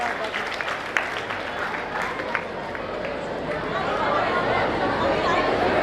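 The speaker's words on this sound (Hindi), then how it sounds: "जोरदार ताली बच्चों के लिए।" Sustained applause from a school audience honouring prize-winning students at an annual function, steady and fairly loud throughout and swelling slightly toward the end, with crowd murmur mixed in.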